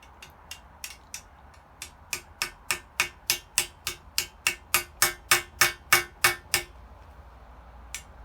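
A copper hammer taps a new taper steering head bearing into place on a 1939 Rudge Special motorcycle: about twenty crisp metallic taps, spaced at first, then quick and steady, growing louder before a final lone tap.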